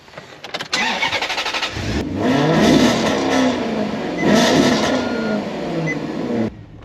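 A Maserati GranTurismo engine fires up and revs hard, its loud exhaust note rising and falling in two long surges before cutting off.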